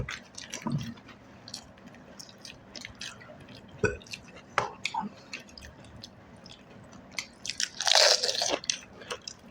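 Fuchka (pani puri) eaten quickly: close, crisp crunches and bites of the puffed shells with wet squishes of filling, coming in irregular bursts, with a louder crunching spell near the end.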